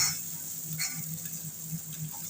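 Soft sizzling in a pan while onion and a green chili are stirred together for a Bengali dish of fish with kochur loti, with a gentle hiss and faint scraping strokes, heard quietly and alone.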